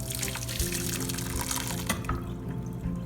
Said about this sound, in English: strain the boba.